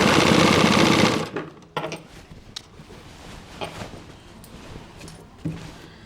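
A sewing machine runs in a fast, loud stitching burst for about a second while sewing gathered pleats into pants, then stops, leaving faint handling clicks and fabric movement.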